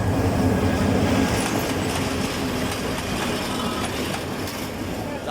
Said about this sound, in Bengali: ট্রেন আসতেছে